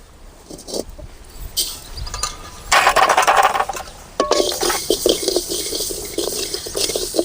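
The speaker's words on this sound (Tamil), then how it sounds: "எள்ளு நல்லா பொரியுது." Sesame seeds fry in hot oil for a brinjal and drumstick gravy, giving bursts of close, bright sizzling hiss and crackle with a few utensil clinks between them.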